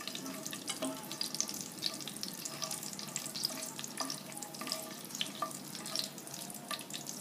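Nuts frying in a pan for zarda sweet rice give a soft, quiet sizzle with light scattered crackles and faint stirring clicks, steady throughout and without speech.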